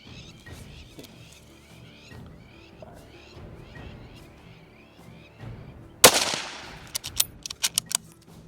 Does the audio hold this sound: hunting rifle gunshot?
yes